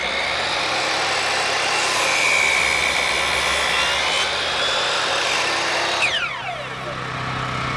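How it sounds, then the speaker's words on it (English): A chop saw set to 45 degrees slices a compound miter into a wooden rafter for a garden shed, a loud sustained whine running through most of the cut, then winding down as the blade spins to a stop. "the chop saw at 45 degrees down here"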